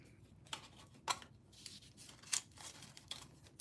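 Tape is pulled from a roll and torn in a few short, sharp rips, with quiet crinkling in between, faint and close, with no one talking.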